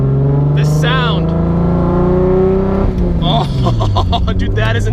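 An RB26/30 engine swapped into a Nissan 240SX S14 pulls hard in second gear, its loud, rising exhaust drone heard from inside the car while an excited voice exclaims over it.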